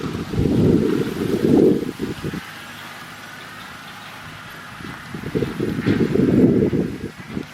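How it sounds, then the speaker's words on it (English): Wind gusts buffet the microphone outdoors in an herb garden, with two loud rumbling surges at the start and end separated by a calmer lull. "it's so windy out here"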